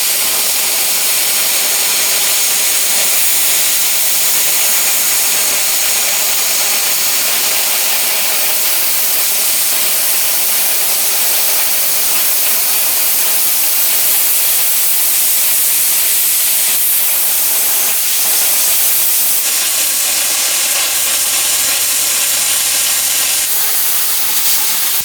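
VEVOR CUT-50P plasma cutter slicing through 3/8 inch plate, a loud steady roaring hiss that runs unbroken for the whole stretch with no voices over it.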